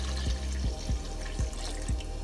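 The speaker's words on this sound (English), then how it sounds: "I combined the water from the shiitake mushrooms with another cup of water" Mushroom soaking water from shiitake, plus another cup of water, pours into a pot for Korean braised short ribs, a steady close splash broken by a few gurgling glugs.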